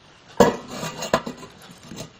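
Shredded cabbage for sauerkraut is shifted and mixed into a big bowl, giving two clear clanks of the bowl followed by soft rustling and light knocking, close by.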